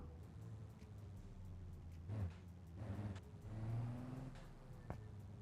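A dragster in BeamNG.Drive launches off the line, its engine rumbling low and then surging in a few rising bursts of revving, moderately close, with no talk over it.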